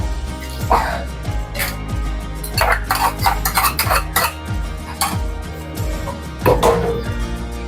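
Tempering poured into pongal in a pot, with sharp metallic clanks and scraping of a utensil against the vessel in irregular bursts, close and fairly loud, with faint speech in the background.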